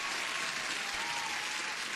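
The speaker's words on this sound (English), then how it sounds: "Guys, you deserve the applause" Steady applause from a group during a live day-trading stream, a dense even wash of clapping at moderate level with no talk over it.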